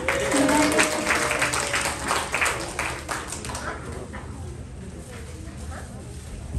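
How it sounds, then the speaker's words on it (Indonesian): A church congregation claps during a sermon, with dense applause loud at first and fading over several seconds. "Yang ibu-ibu boleh tepuk tangan kali ya."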